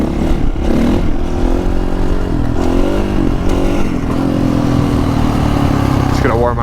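A Honda CRF450R dirt bike engine warming up outdoors in the wind, idling and revving steadily up close, with a rough mechanical clatter throughout and a voice talking over it.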